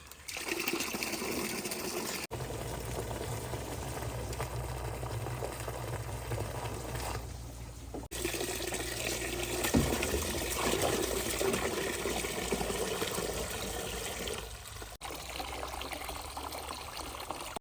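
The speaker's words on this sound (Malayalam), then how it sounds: "ഇനി വെള്ളം ഒഴിച്ച് നേർപ്പിച്ചെടുക്കാം" Water poured to dilute a cardamom-farm fertilizer mix, a steady rushing and trickling flow that runs continuously with brief pauses, close and moderately loud with no talking.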